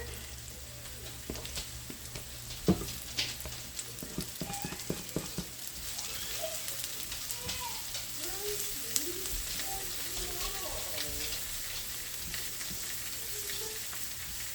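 Chopped garlic hits a hot pan and sizzles in a steady, close crackling hiss, with scattered clinks and scrapes of utensils against cookware throughout.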